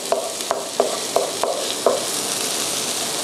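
Shallots stir-fried in oil, a soft continuous sizzle under several sharp scrapes of a utensil against the pan in an uneven rhythm early on, then steady frying alone, close and moderately loud.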